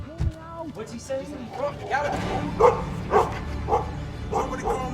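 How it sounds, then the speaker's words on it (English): Several dogs bark over and over in a lively, uneven run of yips and woofs, loud and close, with people talking over them in a prison escape reenactment. "Somebody calm these damn dogs down."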